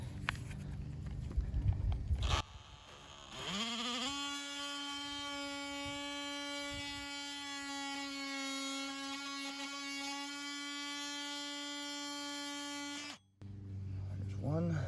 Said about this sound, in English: I'm gonna use my good old oscillating saw